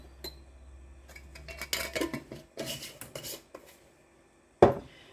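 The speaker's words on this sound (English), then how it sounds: "And then I'm going to mix this cornstarch in." A metal spoon stirring cornstarch into onion powder in a small dish, with scattered clinks and scraping bursts, a few pauses, then one sharp knock near the end.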